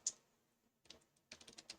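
Sparse typing on a computer keyboard: a single sharp key click, a pause, then a short burst of quiet, close keystrokes, all faint against near silence.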